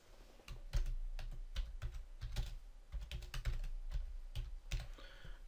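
Typing on a computer keyboard, a quick run of close, irregular key clicks lasting a few seconds, no talking.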